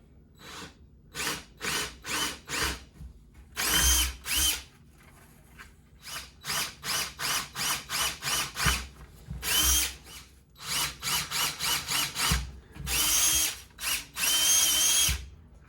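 A power drill bores holes into a homemade wooden skateboard deck in repeated short bursts, some brief and others longer, with close, loud whines separated by pauses.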